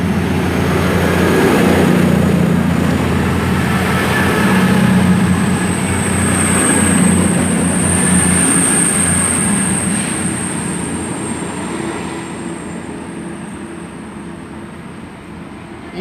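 A Class 220 diesel train departs Bristol Parkway station bound for Plymouth, its loud engine drone and rolling wheels strong at first, then slowly fading as it pulls away, with a high whine running over the top.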